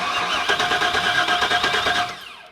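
Starter cranks an LS-swapped engine in an old Chevy Square Body crew cab dually, a fast rhythmic churning whir for about two seconds, loud and close, then winding down.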